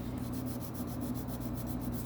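Steady, even rasping of a homemade sandpaper sanding stick rubbed back and forth on a steel impression die, close up and continuous with a light repeating stroke rhythm.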